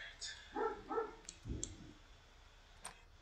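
A dog barks in a few quick, soft yips inside The Sims 4 life simulation game, faint and brief, with small clicks following.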